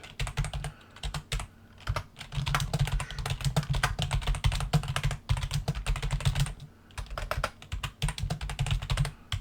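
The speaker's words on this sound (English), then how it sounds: "you would just open up a blank line and you can start typing" Close, rapid tapping on a computer keyboard as text is typed, with dense bursts of clicking broken by brief pauses.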